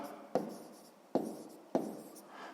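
Three sharp pen strokes on paper, each a crisp tap followed by a short scratchy trail, spaced about a second apart as a scale is written down for a sixth-grade math exercise; close and quiet, with no talking.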